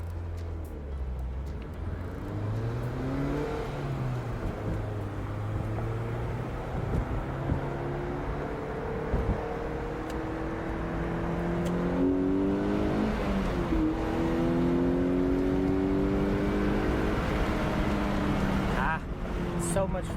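A 2012 Mazda MX-5 Miata engine climbs through the gears from inside the car, revs rising in repeated sweeps with brief dips at each shift, steady and close with someone speaking over it.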